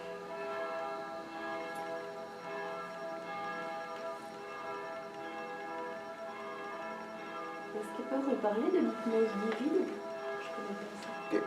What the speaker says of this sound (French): your beautiful description is accompanied by the bells